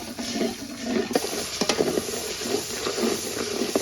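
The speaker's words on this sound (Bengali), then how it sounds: "মশলাটা ভালো মতন কষানো হয়ে গেছে" A masala paste of garlic, onion, turmeric, chili and salt sizzling and frying in a pan, with repeated scraping stirs of a spoon cutting through the steady hiss.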